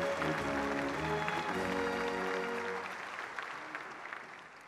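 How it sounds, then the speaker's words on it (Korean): Audience applause fills a Korean War armistice and UN forces participation day commemoration ceremony, a sustained burst of clapping over a fading tonal backdrop, gradually thinning and tapering off toward the end. "다시 한번 큰 박수 부탁드립니다"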